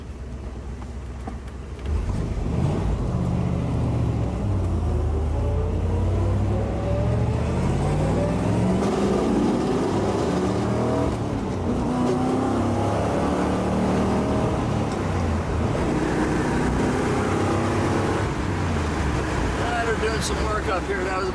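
A 1972 Chevrolet Corvette V8 engine revs and accelerates steadily, its tone rising and falling through gear shifts, loud and close throughout.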